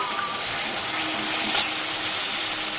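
Spice masala frying in oil, a steady close hiss and crackle of sizzling with one brief louder spit near the middle, no voices.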